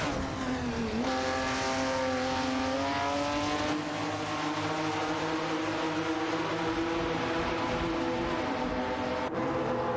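Simulated race cars in an AI racing game, a Chevrolet Camaro Z28 and a 1970 Plymouth Superbird, roar continuously with rising engine pitch as they battle closely, loud and steady throughout with no talk.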